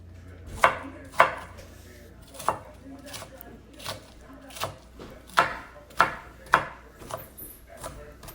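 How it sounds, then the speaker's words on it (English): Knife roughly chopping an onion on a cutting board for Malaysian fried rice vermicelli with shrimp, with about ten distinct, close, irregularly spaced thuds and no other sound. "Next, we're gonna roughly chop one onion."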